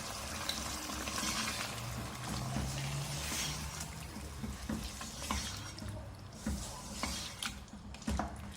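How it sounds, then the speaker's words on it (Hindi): Half a kilogram of mutton stirred and fried in a pan, a steady close sizzle with repeated scraping and clinking of a spoon against the metal, no talk. "भुनाई करेंगे इसकी कि कलर चेंज हो जाए गोश्त का।"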